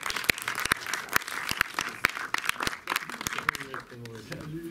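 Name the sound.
audience applause at end of a cinema event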